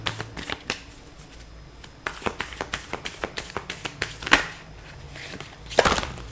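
Tarot cards being shuffled by hand, a rapid run of close, crisp riffling taps and flutters, ending in two louder clattering bursts as the deck falls apart and cards scatter, with no talking.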